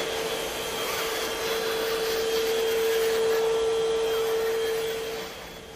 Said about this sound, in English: This remote control vacuum cleaner is more than just a gadget.